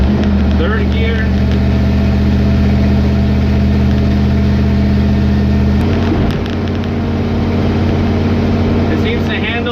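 A carbureted LS 5.3 V8 swapped into a Dodge W100 truck drives along in gear with a loud, steady engine drone and road rumble, and the tone shifts partway through as the engine load changes.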